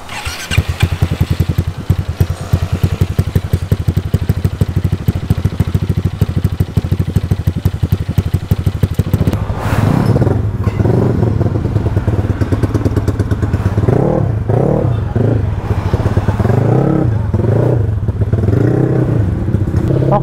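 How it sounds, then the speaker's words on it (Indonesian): A Yamaha X-Max scooter with a custom exhaust revs loudly and close by, a rapid pulsing drone for the first half before dropping into uneven blips and throttle bursts. "tadi di custom lagi suara knalpot gua dan lebih gacor banget, yang sekarang lebih bacot"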